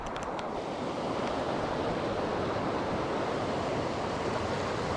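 Steady, loud broadband rush of flowing river water on a sunny Lake District walk between Torver and Coniston Water, continuous and close, with some wind buffeting the microphone.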